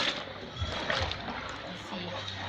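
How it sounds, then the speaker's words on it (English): Water splashes and trickles steadily into a container of liquid soap being made, with soft sloshing as it is stirred, close and moderately loud. "So I'm adding my water,"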